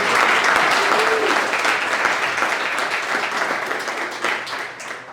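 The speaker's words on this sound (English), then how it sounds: "give a big round of applause" Audience applause at the close of a short business talk on AI, a dense, loud burst of clapping that stays steady and slowly eases off over several seconds.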